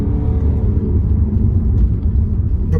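BMW 7 Series car pulling away on a test drive, a loud steady low engine rumble and road hum heard from inside the cabin, with no talk.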